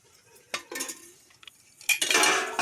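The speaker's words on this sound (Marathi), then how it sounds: "आणि गॅसवर आता कढई ठेवली. तिच्यात आता त्यांच्या अंदाजानुसार म्हणजे तेल टाकी देते." A metal wok is set down on a gas stove and oil poured in for a fish curry: sharp clanks and scraping knocks at close range, then a louder burst of metallic clatter and a faint sizzle near the end, with no voices.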